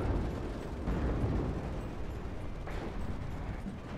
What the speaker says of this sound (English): Oh, artillery straight on top of the Eyehawks as well.